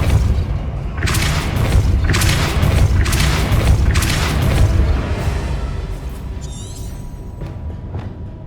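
A Depulso spell fires off in Hogwarts Legacy, a run of deep, booming blasts and thuds close and loud, with a softer magical shimmer trailing at the end.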